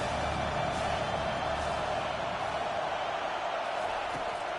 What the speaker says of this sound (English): Decibels rising as the crowd gets behind this defense on 3rd down.